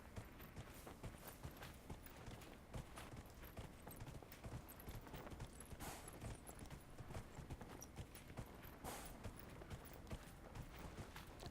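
Steady rhythmic clip-clop of horse hooves from the video game Dragon Age Inquisition, a continuous trotting pattern mixed with game ambience, no voices over it.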